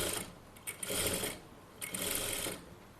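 A sewing machine stitches fabric in two short bursts of rapid whirring, each lasting under a second, separated by a quiet pause, close and fairly soft.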